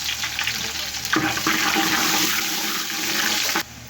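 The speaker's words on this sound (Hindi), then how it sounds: "अब हम डाल देंगे सौंफ और ज़ीरा दोनों एक साथ, और इसी के साथ हम प्याज डाल लेंगे ताकि मसाले हमारे जले ना।" Fennel seeds, cumin and onions hit hot oil together for a potato pulao, giving a loud, steady broadband sizzle with a sharper burst near the start that runs almost to the end, then drops off.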